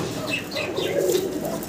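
A pair of black Lahori pigeons on eggs cooing close by, giving a rolling low warble that swells and fades over a couple of seconds, with a few light chirps.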